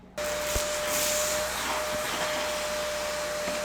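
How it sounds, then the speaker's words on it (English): A shop vac starts up suddenly and runs loud, a steady whine and rush as it sucks leftover coffee beans out of an espresso grinder. A few faint clicks and knocks sound under the motor. "Now we're just going to vacuum the rest of whatever I couldn't get out with a shop vac."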